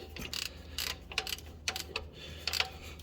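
Torque rod bolts on a Nissan Sentra being tightened with a ratchet, quiet bursts of clicking ratchet strokes in short irregular runs, close by with no talk.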